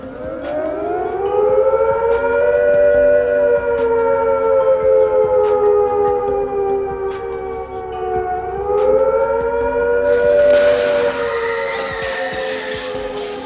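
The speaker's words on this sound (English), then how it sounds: "Here is a reminder of what the air attack warning sounds like." UK air attack warning civil defence siren, a rising and falling wail that sweeps up, holds and dips before climbing again, loud and steady throughout with no voices.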